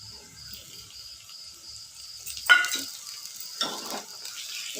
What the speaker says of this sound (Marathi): कांदा आणि आलं लसणाची पेस्ट घालत आहे